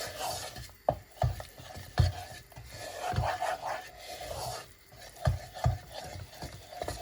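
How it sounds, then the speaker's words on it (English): Sauce for macaroni cheese being stirred in a pan, a close, quiet run of irregular scraping and rubbing strokes with occasional soft knocks of the utensil against the pan. "Keep stirring because you don't want your sauce to be lumpy."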